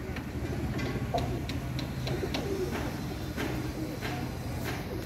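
Red-eyed pigeons kept by a fancier coo softly and repeatedly, low murmuring calls mixed with scattered clicks and wing rustles over a constant noisy background.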